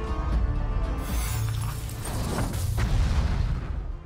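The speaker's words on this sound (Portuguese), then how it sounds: "Eu taco a bombinha aqui." Bomb blast in the fantasy strategy video game The Hand of Merlin, a deep booming explosion with a sustained low rumble that swells and rolls on for several seconds.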